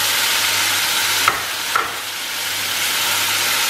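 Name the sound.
tomato puree sizzling as it is added to the pan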